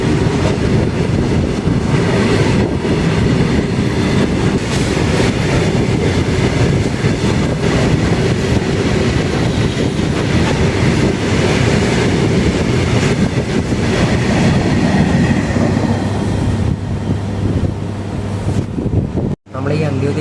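The Antyodaya Express from Kochuveli to Mangalore rolls along at speed, a loud continuous roar of wheels and carriage rattle with wind rush, heard from on board and steady throughout.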